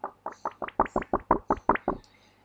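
A run of about ten quick, crisp plastic clicks as a plastic playing card from the Radlands card game is flexed, evenly paced and close, fading off at the end.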